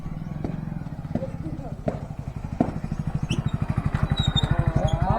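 A motorcycle engine runs nearby with a steady stream of rapid firing pulses that grows slightly louder, with voices nearby and a few knocks and clatters.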